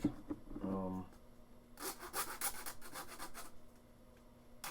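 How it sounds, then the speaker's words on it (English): A hacksaw blade cuts a cork in half on a tabletop, giving a run of close, rasping strokes in the middle stretch, with a brief voice-like tone near the start. "I have a hacksaw blade and I'm just gonna cut this one in half"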